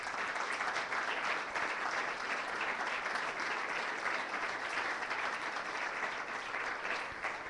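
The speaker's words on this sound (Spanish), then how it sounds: "Vamos a dar un aplauso al Señor de gratitud." A church congregation applauds steadily for several seconds, a dense, even wash of many hands clapping at moderate distance with no talk over it, tapering slightly at the end.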